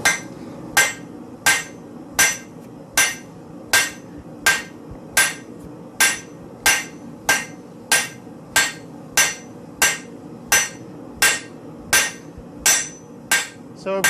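Metal is hammered on an anvil to flatten a piece down to a quarter inch, with about twenty evenly spaced, sharp ringing blows in a steady rhythm, close and loud with no talk.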